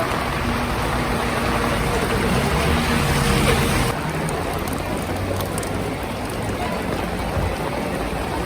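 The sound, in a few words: heavy rain in Florianópolis city centre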